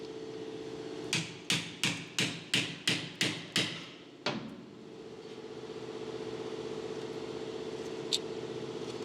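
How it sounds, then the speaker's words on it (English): A hammer drives a screwdriver wedged between rotor and pad to push back the brake caliper piston on a 2015-2020 Hyundai Elantra: eight sharp metallic strikes in quick rhythm, then one final blow, close and loud over a faint idling hum. "hit it with a hammer"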